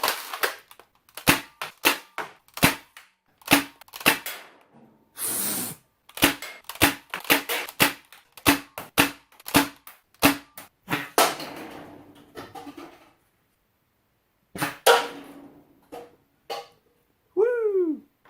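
Doomsayer Nerf blaster firing at acetone can targets, sharp single shots and impact clacks in irregular succession over many seconds, loud and close, with occasional pauses.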